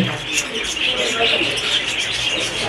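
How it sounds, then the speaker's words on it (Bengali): A pair of lovebirds nesting in a clay pot in a bird shop give quick, high chirps and tweets, fairly close, with a voice talking over them. "বন্ধুরা এখানে দেখুন হাড়ির ভিতরে এক জোড়া লাভবাট আছে।"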